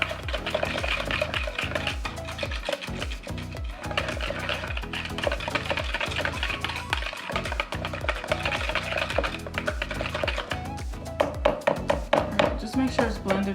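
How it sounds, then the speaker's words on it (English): A whisk or spoon stirs squeezed lemon juice into yogurt with steady, rapid scraping and tapping against the bowl, close and continuous throughout. "And then you just mix it. Use a whisk or a spoon."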